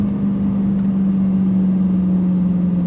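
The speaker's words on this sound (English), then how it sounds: "the sound of that supercharger" A 2023 Dodge Challenger Hellcat Jailbreak sends out a steady, sustained supercharger whine over a dense engine rumble, loud and unchanging throughout with no talking.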